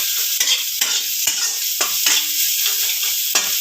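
Onions fry for veg chowmein while being stirred, a loud continuous sizzle broken by repeated scraping strokes of the spatula against the pan at an irregular pace.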